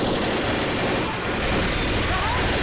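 Dense, continuous gunfire from the Left 4 Dead zombie shooter game, a loud, rapid barrage of overlapping shots filling the whole stretch, with a voice faintly mixed under the noise.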